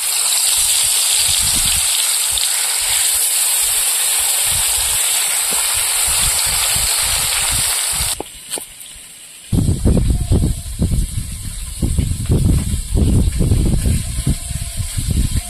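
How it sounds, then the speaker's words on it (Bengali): Fish frying in hot oil for a Bengali fish curry: a loud, steady sizzling hiss that drops out briefly, then returns as rougher, crackling spatter close to the pan. "এবার মাছগুলো ভেজে নেব।"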